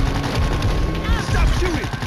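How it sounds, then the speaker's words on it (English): Rapid bursts of gunfire from the World War Z video game crackle through a dense, busy battle mix, layered with shouting voices and other game sounds. "Stop shooting!"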